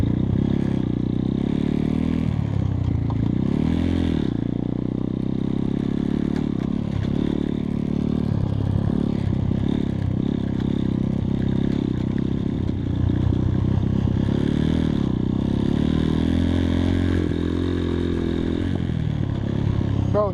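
A 2021 X-Pro Titan 250cc dirt bike powers uphill with a steady, loud engine drone and rough clatter that rises and dips throughout, close by and with no pauses.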